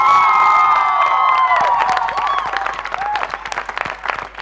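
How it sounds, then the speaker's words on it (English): Audience applause with cheering and whoops for the stage crew at a college day event, starting behind a sustained tonal sound and continuing as uneven clapping with scattered shouts. "Big round of applause for the stage crew, Alan Anthony Joy, Stephen Barreto, John Roy"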